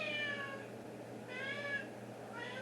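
A cat meows twice, drawn-out plaintive calls close by, separated by a short pause against a quiet indoor hum.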